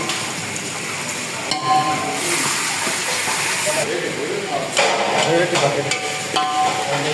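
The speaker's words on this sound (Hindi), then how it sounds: "ब्राउन प्याज को हल्का सा ब्राउन करना है।" Onions browning in a pan for a Sindhi beh (lotus stem) dish, giving a steady broadband sizzle and hiss that runs throughout, with occasional stirring scrapes and brief louder bursts.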